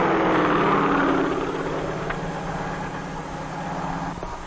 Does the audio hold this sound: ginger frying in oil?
no